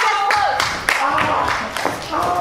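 Scattered clapping from a small audience at a live stand-up comedy show, uneven and fairly close, mixed with voices and crowd chatter.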